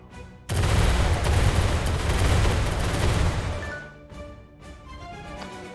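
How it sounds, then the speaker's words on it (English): A ship cannon barrage fires in the Uncharted Ocean video game, a dense, loud roll of blasts that bursts in suddenly, holds for about three seconds, then fades into rumbling echoes and a few scattered later booms. "Fire the second barrage"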